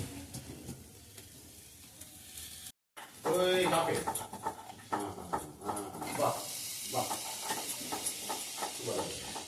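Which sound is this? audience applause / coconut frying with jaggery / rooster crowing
coconut frying with jaggery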